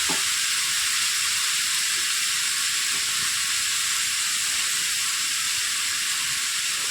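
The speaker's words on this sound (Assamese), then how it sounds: "আলু অমিতাত লাগি থকা পানীৰ ভাৱটো গুচাবলৈ অলপ ভাজি ল'ব লাগিব।" Raw papaya (amita) and potato pieces frying in a pan, a loud steady sizzle and hiss close up that stays unbroken throughout, with no talking.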